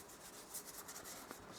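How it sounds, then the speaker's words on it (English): A 1000-grit sanding block is rubbed across a wheel rim, a brief, faint, steady scuffing swish repeated in quick strokes close by, with no voices. "I'm going to just give this a light sanding"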